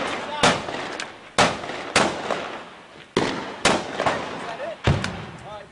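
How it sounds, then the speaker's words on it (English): Several sharp gunshots crack out near a balcony at irregular intervals, each loud and close with a short echoing tail, while a voice murmurs faintly in the background. "Where are you shooting, man?"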